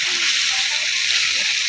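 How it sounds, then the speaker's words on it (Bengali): Water being poured into a pan of cooking fish curry, a continuous close splashing and sloshing pour with a hissing wash that runs evenly throughout. "এবার জল দিয়ে দেব"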